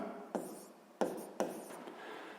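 Chalk or marker strokes on a board during a physics lesson: three sharp taps or strokes with short scratchy drags between, close and quiet, with no speech.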